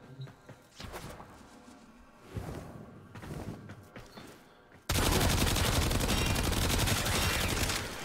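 Warframe's Aeolak assault rifle fires in a loud, dense sustained burst of rapid automatic shots lasting about three seconds, after scattered thuds, whooshes and impacts from earlier gameplay.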